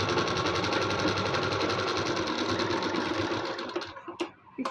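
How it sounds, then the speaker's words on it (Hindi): A sewing machine stitches a seam on a lined suit, running steadily and loud with a dense, even motor whir, then slowing and stopping near the end with a few short bursts. "तो इस पर सिलाई लगा देते हैं।"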